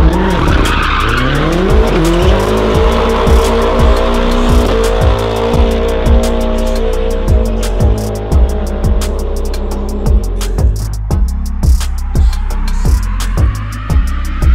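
Loud, sustained tire squeal from a car skidding as people attempt to jump it, with engine roar underneath and sharp rhythmic thumps throughout, continuous for the whole stretch.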